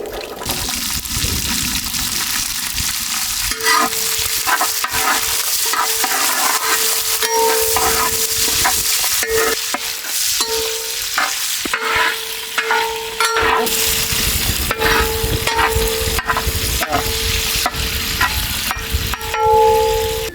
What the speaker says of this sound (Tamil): அப்படியே சின்ன வெங்காயத்தை இறக்கிடுவோமுக்கா.